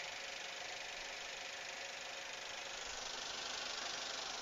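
A 2009 Toyota Avanza engine idles steadily with an even, smooth hum and faint mechanical ticking, constant and unchanging, heard close with no voices.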